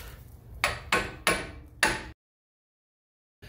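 A pickle fork is hammered to separate the ball joint on a 1996–2000 Honda Civic. Four sharp metallic strikes land in a steady rhythm, close and loud, then stop abruptly into silence.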